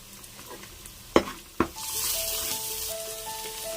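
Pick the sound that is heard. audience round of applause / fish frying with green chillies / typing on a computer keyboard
fish frying with green chillies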